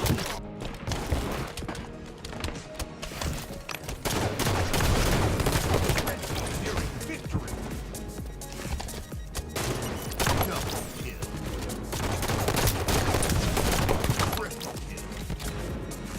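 Gunfire from a Halo match at a 2017 HCS Fall Pro League event, including sniper rifle shots, comes as dense continuous bursts and impacts amid loud game noise, with commentary talk running throughout.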